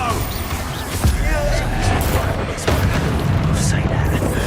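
A loud magical blast from the Expulso explosion spell in Hogwarts Legacy, with sharp booming bursts near one and two-and-a-half seconds over a dense, rumbling game soundscape and voices.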